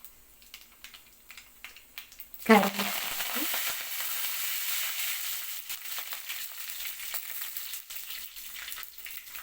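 Mustard seeds and cumin dropped into hot oil for a Telugu bitter gourd fry burst into a loud, sudden sizzle with popping crackles, then settle into a steady frying hiss that continues to the end, with no talk.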